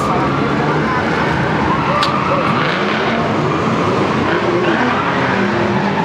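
An Audi RS7 engine rumbles steadily and loudly nearby at a drift event, a constant throaty drone with people talking underneath.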